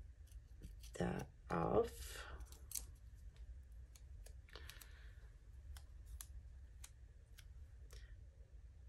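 Scissors snip through paper in a budget planner, a couple of quick close cuts early on with a voice talking over them and light clicks afterward.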